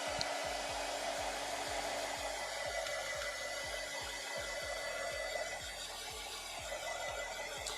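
A hair dryer blows steadily throughout to dry wet paint on an artwork, a loud continuous broadband whoosh with a low motor hum and no talk.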